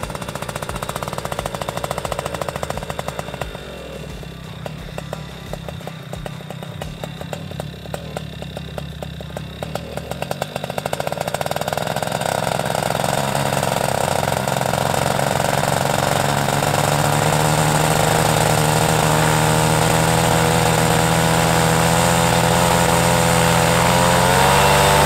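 A paramotor engine strapped to a pilot's back runs loud and continuous, its throttle dipping lower for a few seconds before rising again into a steady, sustained roar with shifting tonal whine.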